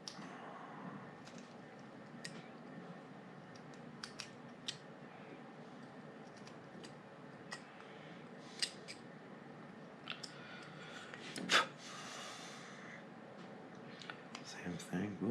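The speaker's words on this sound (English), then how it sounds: "we'll cut down towards it." Knife carving wood for an elf-in-stocking Christmas ornament, faint intermittent scraping and ticking cuts, close and quiet, with soft talk.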